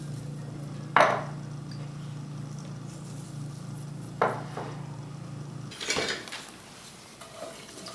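A spoon stirring onions with salt and pepper in a pot of melted butter, giving a few sharp scraping clanks against the pot over a low steady sizzle, with quiet pauses between strokes.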